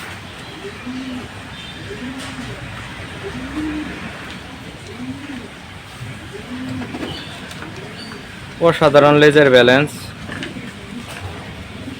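Pigeons in a racing loft coo in low repeated rolls throughout, with someone speaking over them and a brief loud flapping clatter near the end.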